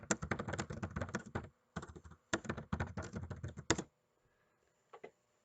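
Fingers type rapidly on a computer keyboard in close, quiet bursts of dense key clicks with short pauses, then stop, leaving a couple of faint taps afterward.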